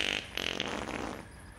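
A cartoon cow lets out a long, buzzy, sputtering fart that runs for over a second and then trails off, loud and close.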